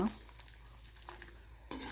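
Chana dal, red chillies and tempering spices frying in hot oil in a pan, with a soft steady sizzle and a few faint stirring clicks, quiet and close, then a louder burst of sizzle near the end.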